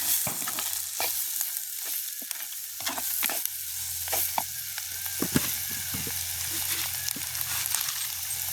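Prawn thokku frying in a pan as curry powder is stirred in, with repeated sharp scrapes and clinks of the spoon over a low, steady sizzle, close and fairly quiet.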